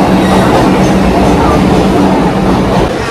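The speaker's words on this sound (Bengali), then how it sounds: "দেখা যাক কখন আসে মেট্রো" A Kolkata metro train rumbles loudly into the station, a dense roar of wheels and car noise filling the platform with steady clatter and no speech over it.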